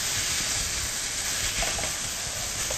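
Blanched seaweed stems stir-frying in a pan over high heat give off a steady, loud, even sizzle and hiss that never lets up, with no voices.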